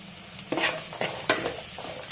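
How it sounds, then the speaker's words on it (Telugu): A spatula stirs tomato and carrot frying in a pan for upma, giving a few distinct scraping strokes over a soft, steady sizzle, close and moderately loud. "ఇందులోనే కొంచెం క్యారెట్ కూడా వేసి ఫ్రై చేయండి."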